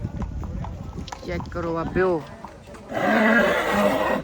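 A stud-farm racehorse neighs loudly and close by at a village horse race in Marwa, Fatehgarh Sahib district, Punjab. A crowd murmurs and people talk before and after the whinny.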